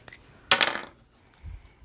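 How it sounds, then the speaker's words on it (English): A newer pair of scissors is picked up, giving a quick metallic clatter and rustle near the start, with a brief low knock toward the end; quiet and close. "newer scissors. I have 2 pair of snips."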